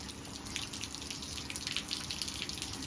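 Water rushes steadily through the pipes of a water system being tested before use, a continuous close gushing with light splashing and trickling throughout.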